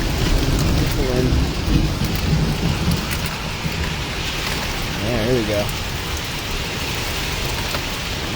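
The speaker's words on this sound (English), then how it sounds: "Here comes the rain." A summer thunderstorm pours steady hissing rain, with low thunder rumbling through it and a few brief spoken words from someone sheltering nearby.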